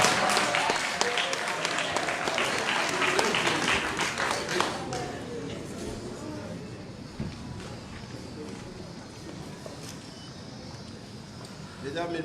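A wedding audience applauds the mayor's entrance at the Pavillon Dorian, the clapping dense and loud at first and then thinning to a softer patter, with voices talking over it.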